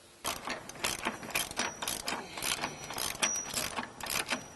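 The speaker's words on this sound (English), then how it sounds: "I prefer to do them with a long-handled ratchet or a breaker bar." A long-handled ratchet loosens body mount bolts on a Jeep Gladiator JT, giving close, rapid clicking in quick bursts that repeat steadily with no talk.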